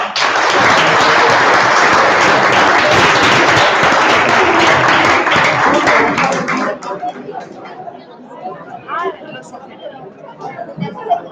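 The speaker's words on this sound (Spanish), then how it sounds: "Muy bien, un aplauso." Loud, dense applause from an indoor audience carries on for about six seconds, then fades into scattered chatter and murmuring voices across the room.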